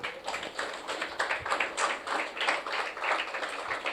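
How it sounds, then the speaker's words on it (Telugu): Congregation in a church clapping hands together, a steady dense patter of many palms sustained throughout, moderately loud and close, with no talk over it. "చప్పట్లు కొట్టాలి"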